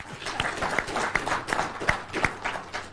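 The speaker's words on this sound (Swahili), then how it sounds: "Sasa tupigie makofi." Studio audience applause on a live Kenyan TV talk show, a brief burst of clapping with distinct sharp hand claps in an irregular rhythm, fairly close and moderately loud.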